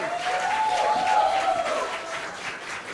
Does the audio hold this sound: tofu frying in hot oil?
no